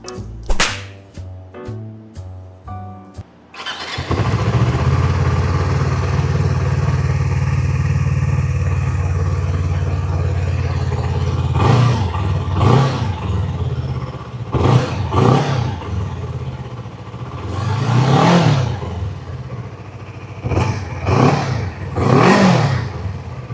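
Keeway RKR 250 motorcycle engine on a test ride, opening with sharp clicks before the engine starts and settles into a steady near idle, then several short, rising revs swell and fall back in close succession.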